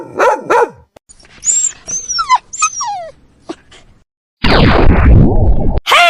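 A dog on a busy London street gives several sharp barks, yips and whimpers close by, followed by a loud wash of passing traffic noise.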